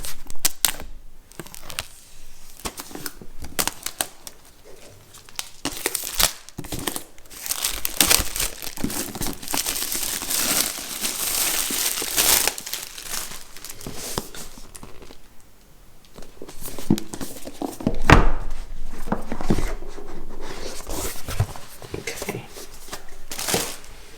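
Unboxing a 12.9-inch iPad Pro M1, with dense close crinkling and tearing of plastic wrap and packaging, rustling bursts of varying loudness throughout, with brief speech mixed in.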